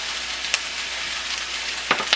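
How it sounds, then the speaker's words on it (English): Shredded cabbage hits a hot pan of udon noodles with a steady, loud sizzle, cut by a few sharp crackles and stirring scrapes near the end. "So now I'm gonna add in the cabbage."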